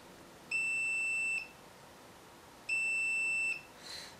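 Two steady electronic beeps from a multimeter continuity test on the pins of a car's gear selector, each lasting just under a second with a pause between, in an otherwise quiet room.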